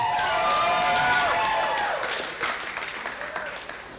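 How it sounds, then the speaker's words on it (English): Wedding reception guests applauding and cheering before the speeches, a dense crowd sound, with voices calling out over it, gradually thinning out. "Give them a big round of applause."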